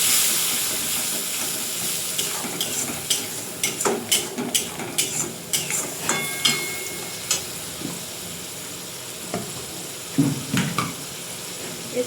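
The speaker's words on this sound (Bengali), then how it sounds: "এই যে একটু জল দিয়ে দেবো, এইটা দিয়ে একসাথে মশলাটা কষাবো।" Spice masala for a chicken and potato curry sizzles and hisses steadily in a pan after water is poured in, with repeated scraping stir strokes in an uneven rhythm close by and no talking.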